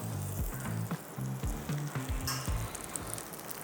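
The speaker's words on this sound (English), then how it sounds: "So we're adding a little butter." A grilled cheese sandwich fries in butter in a pan, giving a close, steady crackling sizzle with bursts of spattering and some scraping as it is moved, no voices.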